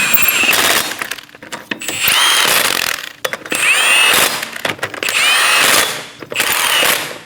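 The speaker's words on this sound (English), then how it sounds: "get all the lug nuts started, snug them down" A power tool spins wheel lug nuts snug on a Scion xB during a front brake job, four separate whirring bursts with short pauses between them, close and loud.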